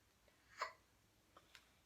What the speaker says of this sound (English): Okay, you do got the hiccups,